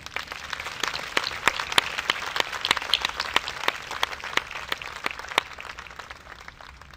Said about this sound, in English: Would you join me again in a round of applause?